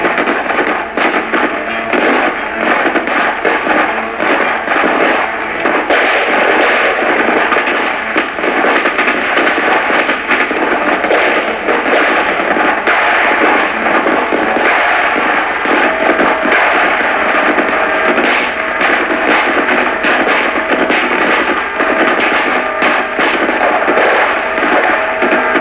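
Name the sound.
rifle squad gunfire in vintage US Army film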